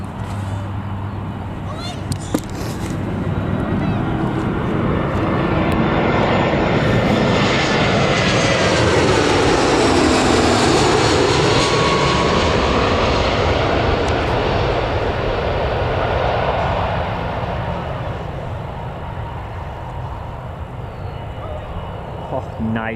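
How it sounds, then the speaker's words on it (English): EasyJet passenger jet at Newcastle Airport, a loud engine roar that builds and sweeps past with a rising and falling whine, sustained and near, then gradually easing off. "Right, so the EasyJet is here now."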